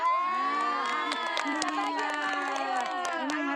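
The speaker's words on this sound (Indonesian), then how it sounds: "Tepuk tangannya" A crowd of children claps and cheers loudly together, high excited shouts and whoops layered over continuous applause, close and sustained throughout.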